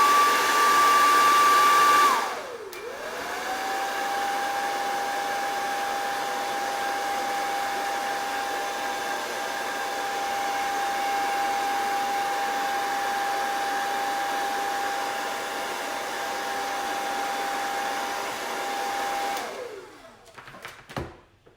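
A hair dryer blows steadily on a wet Chalk Couture transfer, a loud, even whirring drone running nearly twenty seconds before it cuts off.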